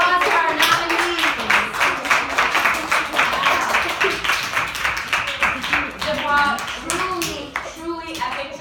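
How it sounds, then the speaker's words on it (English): A class of students applauds award nominees with steady, dense clapping close by, mixed with children's cheering and voices throughout. "Round of applause for our nominees."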